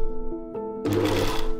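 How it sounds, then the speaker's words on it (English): Sewing machine stitching softer boning beneath a corset cup, edged with twill tape, on a couture silver dress: a quiet hum, then a loud steady whirring run of needle strokes close by after a short pause. "Then I sewed it directly under the cup and hid it with the twill tape"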